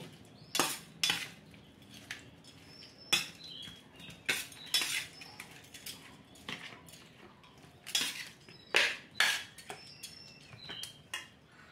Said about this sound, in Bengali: আর আমি এখানে চামচের সাহায্যে পেঁপে সিদ্ধর সাথে ভালো করে মেখে নেব।